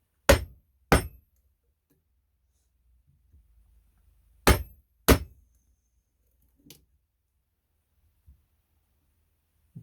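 Chisel being struck by a mallet to cut a mortise in wood: sharp, loud knocks, two pairs of hard blows with a few fainter taps and scrapes between, close and otherwise quiet.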